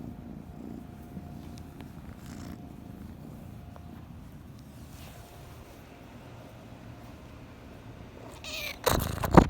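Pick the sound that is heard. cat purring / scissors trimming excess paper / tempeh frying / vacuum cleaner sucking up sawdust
cat purring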